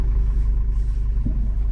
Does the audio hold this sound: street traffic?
yes